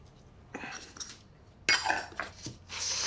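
Dry bread ingredients, including baking powder and salt, are blended in a bowl for a seeded loaf. Clinks and scrapes of a utensil against the bowl come in short bursts, close and fairly quiet.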